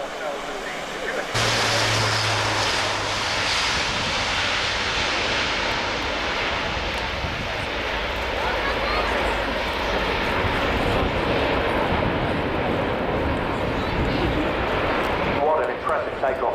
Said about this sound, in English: What an impressive takeoff from an aircraft that size.